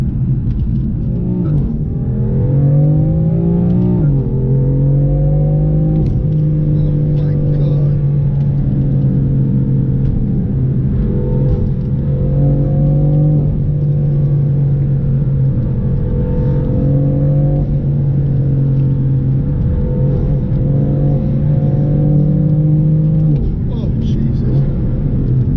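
Interior drone of a BMW M4 being driven, a steady, loud engine rumble whose pitch climbs in several gear-by-gear pulls of acceleration, with a voice talking over it throughout.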